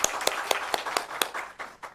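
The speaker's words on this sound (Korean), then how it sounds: "우리 박수 한번 쳐드릴까요?" A church congregation claps together in a steady rhythm of about four claps per second, quick and fairly faint, fading out after a couple of seconds.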